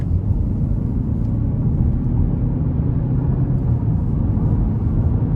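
A 2022 Chevrolet Equinox LS with a 1.5T engine accelerating under throttle, heard from inside as a steady, dense low rumble of engine and road noise with no clear shifts.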